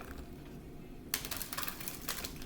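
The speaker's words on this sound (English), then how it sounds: "I'm going to shuffle." Tarot cards being shuffled by hand, quiet at first, then a sudden burst of close, crisp riffling and flicking that runs to the end, with no talking.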